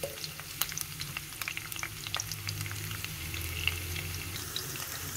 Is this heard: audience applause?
no